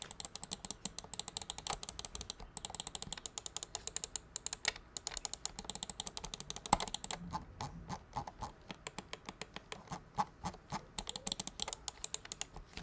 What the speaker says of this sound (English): Let's drop a sound test so you guys can hear what this mouse sounds like.